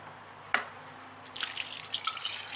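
Liquid for cold coffee is poured into a mixer jar: a single drip lands first, then a bright, close splashing pour runs to the end.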